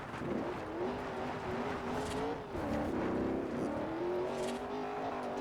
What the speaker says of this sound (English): As we drift casually in a car on dirt with regular road tires.